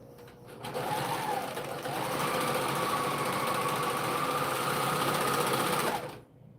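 A sewing machine runs loud and close for about five seconds in one continuous whirring stretch, finishing the edge of a fabric piece before it is stitched on. It starts and stops abruptly, with no talk.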